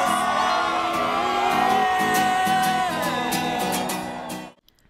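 A crowd of people scream and cheer together for camera crowd shots at an American Idol audition in Chicago, a loud sustained wash of voices with whoops and shrill peaks, then cutting off abruptly near the end.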